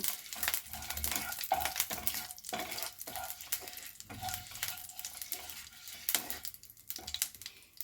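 Bay leaves, panch phoron and dried red chillies stirred slowly in hot oil, a steady faint sizzle with repeated light scrapes and clinks of a utensil against the pan, no talk.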